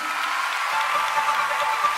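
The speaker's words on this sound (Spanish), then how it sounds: "Aplauda a su Señor" Girls aged about eight to thirteen applaud at a church campfire gathering, a steady wash of clapping from a group that holds at an even level for a couple of seconds.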